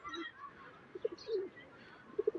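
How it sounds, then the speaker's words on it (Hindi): Soft pigeon coos from a recently caught plain pigeon, a few faint low calls spread out over a quiet background. "ये कबूतर भी पकड़ा है जी"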